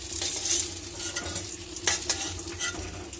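Eggplant slices frying in a pan sizzle steadily up close, broken by a few sharp scraping stirs and clatters of a spatula.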